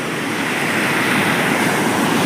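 Sea waves wash continuously onto Tondavali beach near Malvan, a steady broadband surf roar with no distinct breaks, fairly loud and alone without any voices.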